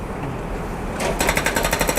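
After a low background hum, a jackhammer kicks in nearby during drainage canal dredging work, pounding in a rapid, even series of sharp bursts.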